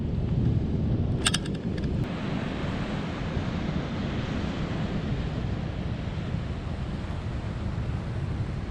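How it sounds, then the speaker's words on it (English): Surf breaks on the beach at Estero Bluffs as a constant heavy rumble of waves mixed with wind buffeting the microphone, loud and unbroken, with a brief metallic jingle near the start. "we're on the beach"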